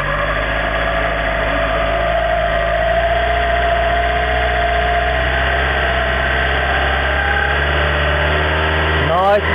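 A car engine idling under load, its note rising slowly and smoothly as the revs are brought up, a steady close mechanical drone with a faint whine, no talking.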